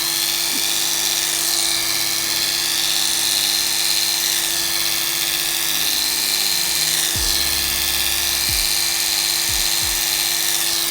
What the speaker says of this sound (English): I've been waiting for this beard to be trimmed for a while now